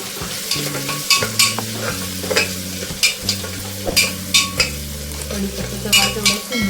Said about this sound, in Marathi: टोमॅटो घालून झालाय आपला, छानपैकी कढीपत्ता घालूया आणि छान असं हे घालून घेऊया